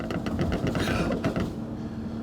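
Tuned 500HP BMW M3 F80 with a 6-speed, heard from inside the cabin with the windows down: a rumbling engine and exhaust popping and crackling in quick bursts that fade into a steadier drone.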